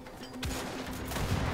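Gunfire in the video game Wolfenstein: The Old Blood, a short close burst of shots with a sharp crack near the start, loud and without talk.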